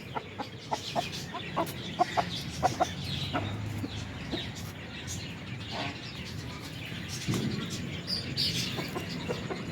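Chickens cluck and chirp in short bursts nearby, with ducks about, farmyard background noise and a faint voice now and then.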